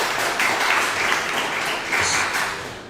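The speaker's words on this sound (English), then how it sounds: "can we please show a round of applause from the community for West Genesee Boys Lacrosse?" Community crowd at the Wildcat Sports Pub cheering West Genesee Boys Lacrosse with steady applause, loud and close, swelling briefly near the end before easing off.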